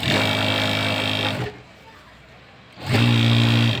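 An electric sewing machine stitching a kurti with a stand collar runs in a loud, steady whir, stops for just over a second, then starts again just as close and loud.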